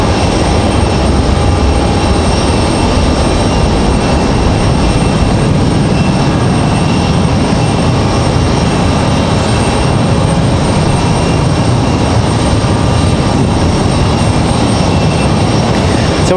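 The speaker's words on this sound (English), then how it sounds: "Anyway, the A319 out of here." An Airbus A319 jet airliner departs Raleigh-Durham airport with a steady, loud, broadband engine roar that holds at a constant level for the whole stretch, no talk over it.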